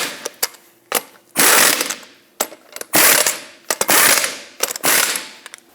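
A wrench tightens the lug nuts on a 2008-2012 Jeep Liberty wheel with several loud, close bursts of ratcheting and mechanical clicking, separated by short pauses.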